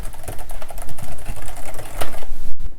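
Close, brisk key clicks from someone typing on a Logitech Ergo keyboard, a quick irregular patter of taps with a brief pause near the end.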